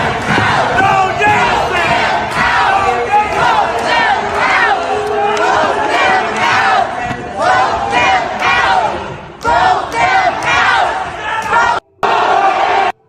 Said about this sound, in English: The whole crowd yells and chants they don't want the data center